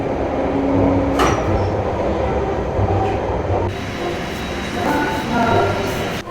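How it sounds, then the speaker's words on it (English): An old London Underground Bakerloo line tube train rumbles loudly through a tunnel, a steady close roar with rattling wheels and brief squealing bursts throughout. "from a bus to a tube inside a tunnel"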